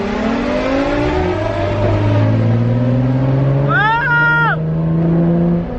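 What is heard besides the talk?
Nissan 350z loud exhaust revving during race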